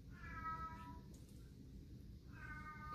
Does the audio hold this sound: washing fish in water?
no